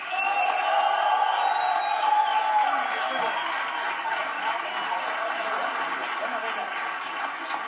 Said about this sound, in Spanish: Recibamos con un fuerte aplauso a quien está parado, Julio Sandoval.